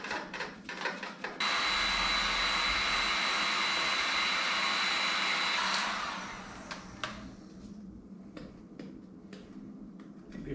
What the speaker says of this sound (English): Before I do too much more with the heat gun